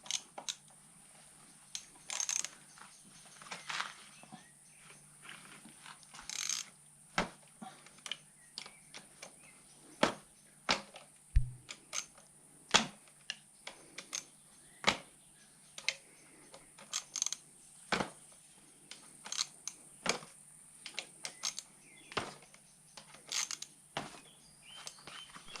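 Sparse metallic clicks, ticks and taps from tools sound close by and at irregular intervals while a crankshaft belt comes off a busted BMW N55 engine from an M135i during a teardown.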